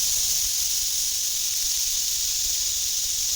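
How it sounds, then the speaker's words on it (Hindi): Marinated chicken pieces sizzling in hot butter and oil in a pan, a steady close hiss running evenly without a break. "ये मोमेंट ना सबसे ज़्यादा सेटिस्फाइंग होता है जब चिकन तेल में सिकल करता है"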